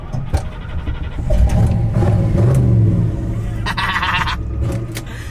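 A cheaply built donk car's engine cranks and catches, then settles into a loud, rumbling idle with rising revs close by, with sharp clicks before the start and high whirring toward the end.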